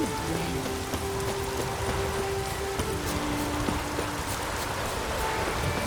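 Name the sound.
rain falling in the video game Witcher 3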